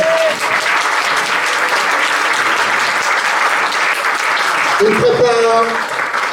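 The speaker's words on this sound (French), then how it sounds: "on va d'abord les applaudir" Sustained applause from a crowd at a restaurant awards event, dense and fairly loud, with a voice briefly rising over the clapping near the end.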